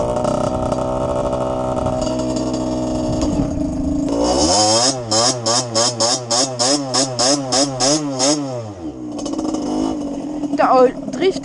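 Motorcycle engine kick-started in the snow, with speech at first, then a loud, buzzy rhythmic revving of rising and falling pitch close by, followed by more talk and engine sound.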